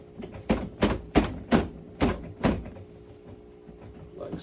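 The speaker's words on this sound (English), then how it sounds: "you're gonna insert the door into the bottom hole." A reptile enclosure door being slid into its track, giving a series of about seven sharp knocking and scraping clacks in an uneven rhythm, close and fairly loud.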